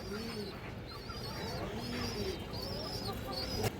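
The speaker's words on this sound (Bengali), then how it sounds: "এগুলো যে ফ্লাইংয়ের কবুতর" Flying pigeons for sale coo in soft, repeated rolling phrases, with a few higher chirps from other birds and a faint background hum.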